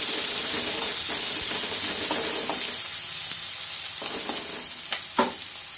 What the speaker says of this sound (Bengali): পেঁয়াজটা আমি ভালো করে একটু লাল লাল করে ভেজে নেব।